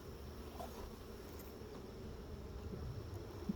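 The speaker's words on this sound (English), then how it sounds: "I see a ton of bees, lots of wax, and no eggs, no larvae" Honey bees buzz in a low, steady drone while a hive is opened for inspection, a close continuous hum with no talk and only a faint tap near the end.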